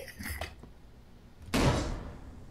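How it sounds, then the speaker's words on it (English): A door opening in a horror video game: a quiet stretch with a few soft knocks, then a sudden loud sliding, scraping burst that slowly fades, with no talking. "The door noise is scary."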